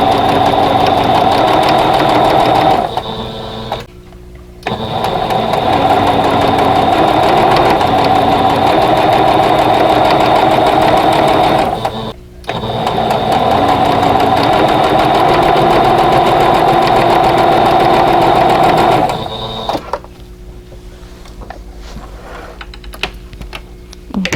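A sewing machine chain-pieces quilt block units in long steady runs, loud and close, with two brief pauses between seams and a quieter stop near the end.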